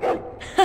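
A dog in the video game Dragon Age: Origins gives two short, close barks, the second sharper and louder, with a brief quieter gap between them.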